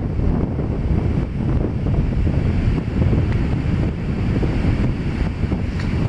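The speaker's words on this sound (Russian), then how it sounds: "На море сегодня очень сильный ветер, и любители кайтинга катаются по ветру. Сегодня волны большие." Strong sea wind roars and buffets the microphone continuously while big waves surge and break along the shore, loud and close with no voices.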